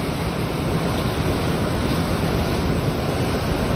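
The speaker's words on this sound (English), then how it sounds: "The whole town of Yellville is flooded over there" Rushing floodwater pouring through the flooded town of Yellville, a dense continuous roar of water with heavy wind buffeting the microphone and no voices.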